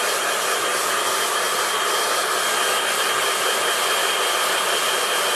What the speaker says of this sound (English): Only takes a few seconds with the hairdryer.